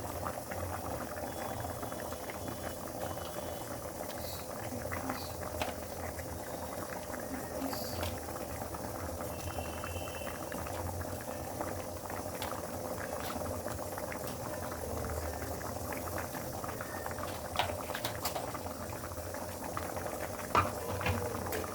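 Water bubbles at a full rolling boil in a cooking pot, waiting for fish, a close, steady churning and popping that continues evenly throughout.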